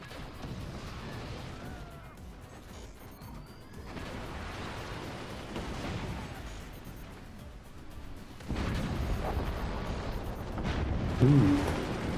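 Mortars firing in a strategy video game sound as muffled, rumbling booms and distant thuds over a steady low background, growing louder and denser toward the end with one sharper burst near the finish, no speech.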